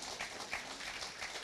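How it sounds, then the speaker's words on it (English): An audience at a community forum in a pavilion applauds Kenisha, a short burst of clapping filling the room at a steady level. "I really want y'all to give Kenisha a big round of applause"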